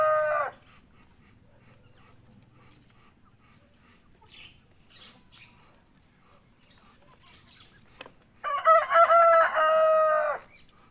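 Chickens cluck quietly in the background for several seconds, then a rooster lets out one loud, clear crow near the end. The birds are on a Thai farm where sick chickens with a cold are being treated.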